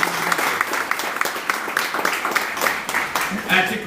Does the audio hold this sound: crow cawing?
no